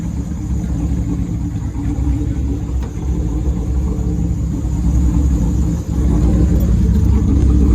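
A car engine warms up before a dyno run, a steady, loud low rumble that idles and swells slightly throughout without a break.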